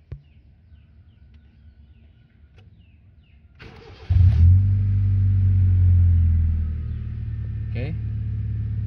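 A 2000 Honda City with a 1500cc V-Tech engine cranks and catches, then settles into a steady, close, rumbling idle that eases slightly lower after a few seconds.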